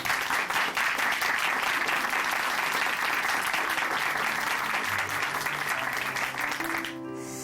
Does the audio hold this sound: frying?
no